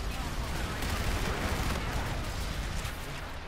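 A bombardment strike lands in the video game Infinite Warfare, a dense rolling barrage of blasts and crackling gunfire filling the whole moment, loud and continuous, with a player's voice mixed in.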